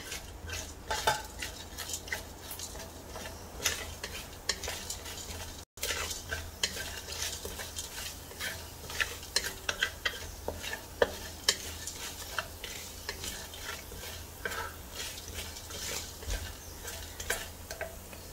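Cumin seed and black pepper dry roasting in a pan for Chettinad mutton bone curry, stirred with a utensil; frequent scraping and tapping stir strokes over a soft crackle, with one brief dropout.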